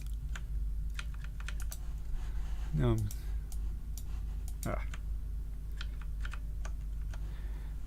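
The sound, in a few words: typing on a computer keyboard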